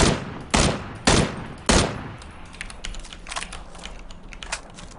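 Gunfire in a shooter video game: four loud, sharp shots spaced about half a second apart, followed by a stretch of fainter, scattered clicks and distant pops.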